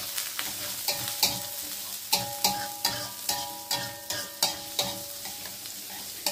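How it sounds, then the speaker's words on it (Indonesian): Shallots and garlic sizzle steadily in a little cooking oil in a pan, broken by a regular series of scraping stirs that sound about every half second. No one speaks. "Masukkan bawang merah, bawang putih sekalian aja. Goreng hingga harum."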